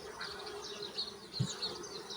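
Aggressive honey bees swarm around the open frames of a hive where the queen has laid eggs, giving a continuous close buzz with rising and falling drones as individual bees pass near, and no voices.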